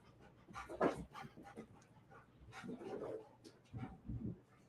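A dog pants in short, rapid breaths close by, with soft snuffles and faint whimpering mixed in, indoors while rain falls outside.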